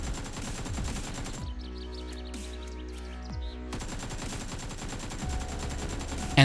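AKM assault rifle firing in PUBG at a lowered 30 FPS, rapid automatic bursts of loud, evenly spaced shots, a long burst, a pause, then another sustained burst, close and punchy with no talking.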